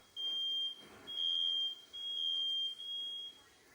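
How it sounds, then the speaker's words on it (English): A high-pitched smoke alarm beeps four times in a steady, repeating pattern, loud and piercing over a quiet room, during a Mitsubishi mini split line set leak repair with nitrogen flowing. "their fire smoke detectors work"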